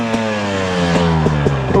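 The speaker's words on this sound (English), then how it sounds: "For whatever reason, this bike just revs so much freer." A two-stroke trail motorcycle, a 2019 KTM 300 XC-W TPI or 2018 Husqvarna TX300 dirt bike, revs up close and loud, its engine note climbing with brief blips near the end.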